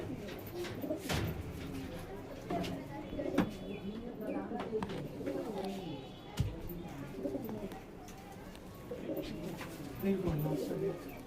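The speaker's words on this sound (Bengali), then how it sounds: "বন্ধুরা পায়রা দেখুন, এই দেখুন" Pigeons cooing in a loft, several soft, repeated throaty coos near at hand over a low background, with occasional light bumps and people talking nearby.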